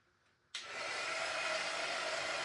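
A hair dryer blows on freshly painted strawberry artwork, switching on abruptly after a brief quiet moment and then holding a loud, steady, broadband whoosh close by, with no talking.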